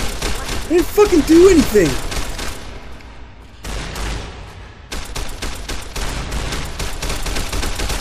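Dense bursts of rapid gunfire ring out in Fallout New Vegas, loud and close, pausing briefly before resuming, while someone shouts angrily over the shooting.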